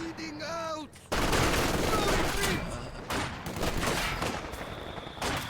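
Mortar barrage in the real-time strategy game Company of Heroes, a dense run of explosive blasts and gunfire filling the scene after a brief lead-in, with a voice talking over the battle.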